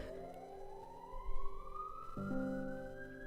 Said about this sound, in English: can any of you hear that siren right now?